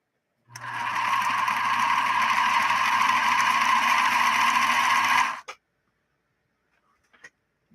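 A Bernina Minimatic 707 sewing machine runs in one steady, loud, close burst of about five seconds, a dense whirring drone that stops abruptly, followed by near silence and a couple of faint clicks.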